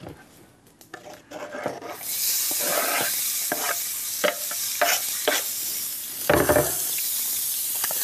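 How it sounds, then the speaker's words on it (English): Onions hit hot oil in a pan and begin sautéing, a steady loud sizzle with intermittent scraping stirs, after a quieter start of handling noises, with no voices. "just enough so that we can saute up these beautiful onions sitting right here"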